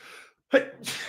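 A single sharp sneeze bursts out, close and fairly loud, following a brief murmur and trailing into a breathy afterward sound.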